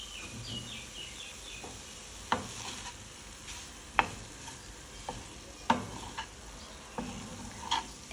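Capsicum frying in a pan, giving a quiet, steady sizzle with sharp clicks and taps of a spatula on the pan scattered throughout.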